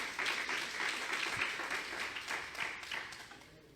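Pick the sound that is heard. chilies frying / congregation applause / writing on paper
congregation applause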